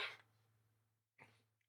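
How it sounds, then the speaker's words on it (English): A person coughing indoors: one harsh, close cough, a short pause, then a second quieter cough over a steady low electrical hum. "all of a sudden I got this cough."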